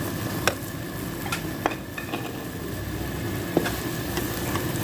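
Chickpeas roasting in masala for Lahori cholay stir and sizzle in a pan, giving a steady low frying hiss broken by a few sharp scraping clicks of a spoon, close and alone.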